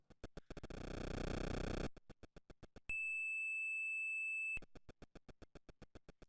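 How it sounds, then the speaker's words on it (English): Electronic Atari 2600 game sounds: rapid rhythmic ticking beeps, a buzzy noise burst, then a long steady high-pitched tone before the quick beeps resume. "that beeping noise is grotesque"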